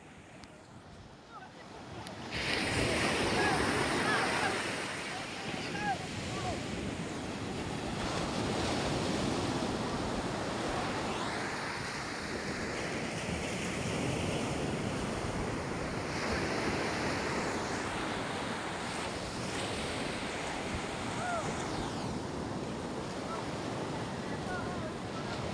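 Wind and ocean waves roll past a small fishing boat out at sea on a lobster catch, a loud, continuous rushing wash with gusty buffeting against the microphone that stays steady for about twenty-five seconds while people talk faintly underneath.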